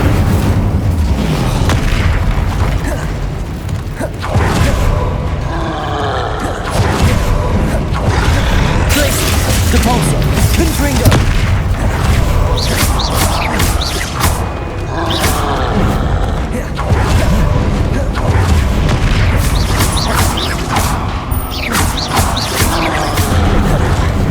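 Spell blasts from Hogwarts Legacy, with Confringo, Depulso and Incendio cast in rapid succession, fill the clip with dense, loud booms and crashes that roll on continuously, with a voice calling out over the combat.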